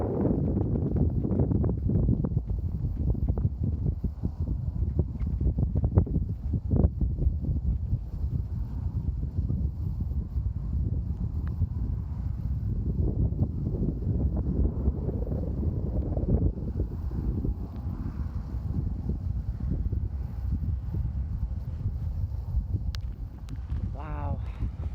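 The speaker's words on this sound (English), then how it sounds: "this wind happening right now feels so nice because it was so hot today" Outdoor wind in Utah buffets the microphone in a low, continuous rumble, rising and falling in gusts for the whole stretch, with a faint tone near the end.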